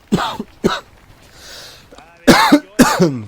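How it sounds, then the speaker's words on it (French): Several short, harsh coughs in quick bursts, close to the listener, with a brief pause of faint breathing between them. "Je vais arrêter de tousser par contre."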